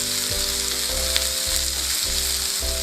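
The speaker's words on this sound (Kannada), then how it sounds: "ಈರುಳ್ಳಿ ಹಾಕಿಬಿಟ್ಟು ಒಂದು 2 ನಿಮಿಷ ಫ್ರೈ ಮಾಡಿ ಚೆನ್ನಾಗಿ" Lengthwise-sliced onions frying over high flame in a pan for egg Manchurian, a dense, even, close sizzle with a low steady hum running underneath, no speech.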